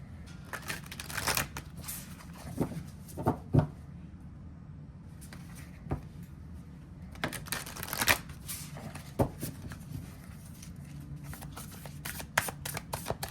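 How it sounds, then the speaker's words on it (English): Tarot cards are shuffled close up in several bursts of crisp riffling and slapping, with brief pauses between rounds and no talking. "Let's give it a couple of good shuffles."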